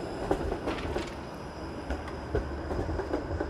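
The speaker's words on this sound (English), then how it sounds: "here comes another streetcar turning around a loop that is not in service." An out-of-service Toronto streetcar turns around a loop on a city street in January, with a rumbling roll and intermittent wheel clicks and squeals from nearby, no talking.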